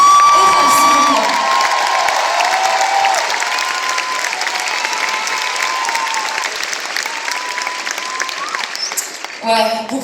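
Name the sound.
audience applauding the musicians at a concert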